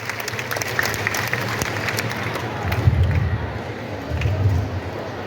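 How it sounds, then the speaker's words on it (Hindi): A crowd applauds at a job offer letter distribution ceremony at the Baliyapur airstrip, welcoming the Jharia MLA. The clapping is steady and moderately loud and swells twice without dying away, with a faint murmur of voices underneath. "जोरदार तालियों के साथ स्वागत और अभिनंदन करें"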